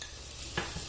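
Green capsicum and peas sizzle in a hot pan and are stirred, a dense continuous frying hiss with a scraping stir partway through, close and alone.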